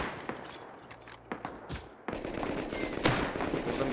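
Gunfire in the video game Rust cracks out in sharp scattered shots, then thickens into rapid bursts of automatic fire over a noisy backdrop, loud and close.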